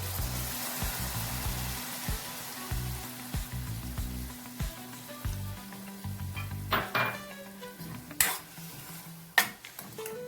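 Tamarind juice poured into a pan of country chicken coconut curry, setting off a steady sizzle with a spoon stirring and scraping against the pan, punctuated by a few sharp metallic knocks, close and continuous.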